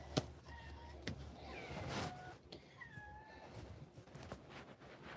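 A cat meows a few times, faint and drawn out with rising and falling tones, among rustling and occasional sharp knocks in a quiet indoor space.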